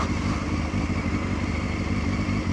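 A motorcycle running steadily on a forest track heading downhill, its engine a loud, close, continuous drone with slight rumbling fluctuations throughout, no talk.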